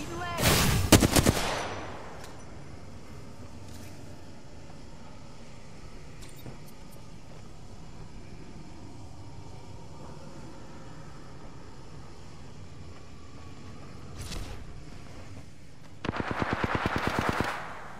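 Gunfire in the video game Apex Legends: a loud, rapid burst of automatic fire at the start, a short shot near the middle, and another sustained rattling burst at the end, with quieter game ambience between.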